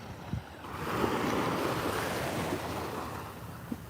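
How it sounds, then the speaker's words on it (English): Ocean surf washes up on a beach in a soft, continuous swell that rises and falls over a few seconds. It is moderately loud, with light wind noise and no voices. "the sound of the ocean, like, you know, the tide just lapping up"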